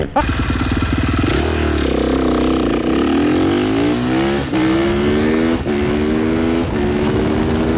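A Sur Ron electric bike racing a KTM 450 dirt bike from a second-gear launch, a loud close engine roar climbing through revs with several sharp shifts, partly masked by voices talking over it.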